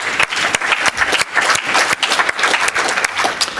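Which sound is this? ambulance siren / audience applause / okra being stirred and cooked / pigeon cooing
audience applause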